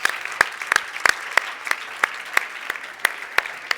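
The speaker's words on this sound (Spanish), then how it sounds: "Un aplauso también para todos vosotros." Sparse, separate handclaps ring out at a literature festival gathering, a few sharp hits spaced about every third of a second over a soft background wash.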